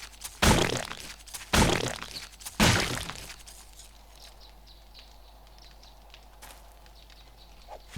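An axe chops zombie corpses for tallow in the survival game 7 Days to Die: three sharp, loud thunking hits about a second apart, then quiet ambience.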